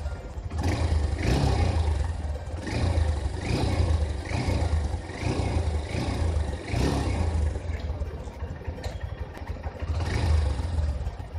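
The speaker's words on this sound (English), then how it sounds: "exhaust note is slightly smoother than the previous Hornets." A 2019 Honda Hornet 160R motorcycle engine revs in repeated bursts, rising and falling roughly every second or two with a slightly smooth exhaust note, close by and alone without talk.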